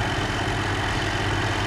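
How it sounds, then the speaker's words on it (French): A John Deere 6150R tractor from a farming game idles with a steady, low engine drone that is loud and even throughout, with no talking. "Le tracteur, je prends le John Deere"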